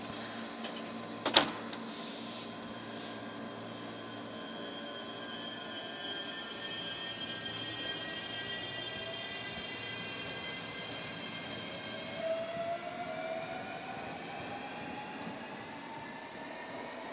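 A local train pulls away from a small station in Japan, its steady rumble and rising motor whine carrying on for many seconds, preceded by a sharp click, with no talking.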